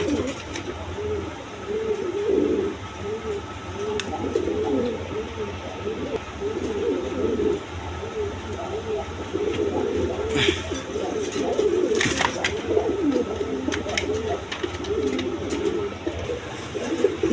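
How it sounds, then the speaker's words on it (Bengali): Farm pigeons, including a classic pair of one hen and one cock, coo in a continuous rolling chorus close by, with some faint background noise. "দেখেন ক্লাসিক বন্টিনেট কবুতর"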